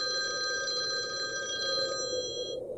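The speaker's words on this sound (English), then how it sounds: "At 2:12 a.m., the room phone rang" An electronic motel room telephone rings with a steady warbling trill for about two seconds, then cuts off, leaving a faint hum underneath.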